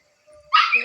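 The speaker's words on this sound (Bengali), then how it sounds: "কুত্তাটা কেমন ঘেউ ঘেউ করে" A single loud, close dog bark, brief and sharp, preceded by a faint high whine.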